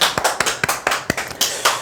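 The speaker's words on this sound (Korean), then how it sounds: "네, 박수." An audience at an insurance telemarketing sales lecture claps, producing a loud irregular run of about a dozen distinct hand claps, sharp and close, with no voices over them.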